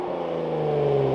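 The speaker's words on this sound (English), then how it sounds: "I can rev it all the way." Lamborghini Revuelto engine revving in neutral with the clutch pushed in, a steady, loud, close engine tone that rises slightly over a short stretch.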